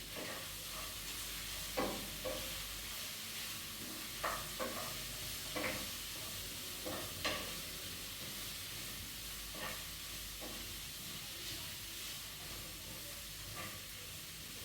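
Corn frying in a pan during meal prep, a faint continuous sizzle and hiss with occasional soft clicks of stirring, fairly quiet and without talk.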